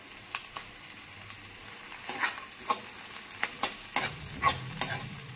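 Onion pieces and cashew bits fry in hot oil in a pan for a meal maker masala curry, giving a steady close sizzle with repeated scraping stirs and clicks of a spatula.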